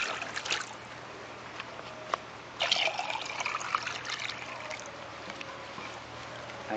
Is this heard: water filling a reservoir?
yes